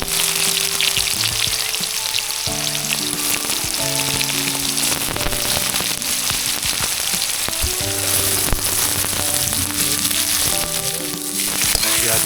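Onions and garlic cloves fry in a pan over a campfire outdoors, a loud, dense, unbroken sizzle held close throughout, with light stirring and faint background music.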